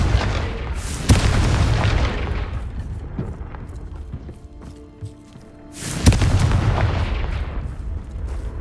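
Two loud, booming fire-spell blasts from a fantasy wizarding game, one near the start and another about five seconds later, each bursting then rumbling down, with faint crackles and quieter effects between them.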